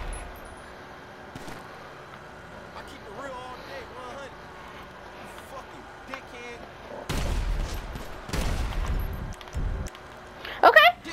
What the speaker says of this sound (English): look at how powerful this gun is